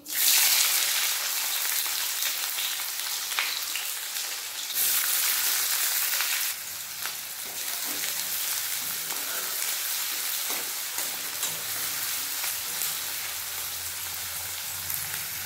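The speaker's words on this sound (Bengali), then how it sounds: "তেল গরম হয়ে গেছে, এতে দিয়ে দেব পেঁয়াজ কুচি" Chopped onions hit hot oil in a wok with a loud burst of sizzling that settles into a continuous, rain-like frying hiss, close and steady, with faint stirring scrapes.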